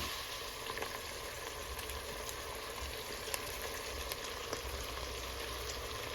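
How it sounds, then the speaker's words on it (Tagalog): Beef offal sautéing hard in a pan for papaitan gives a steady, continuous sizzle with faint crackles and occasional sharp pops, close and alone with no talk. "Malupitang gisa para lumabas ang natural flavor ng niluluto natin papaitan."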